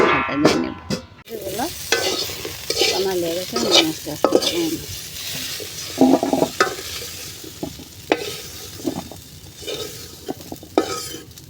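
Spices sizzle and fry in a hot pan for a fish curry, close up and lively, with frequent scraping and stirring of a spatula against the pan and a few soft clinks.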